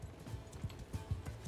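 Cavalry horses moving in Mount & Blade II: Bannerlord, a steady rhythmic patter of hoofbeats thudding low and fairly faint amid quiet battlefield ambience.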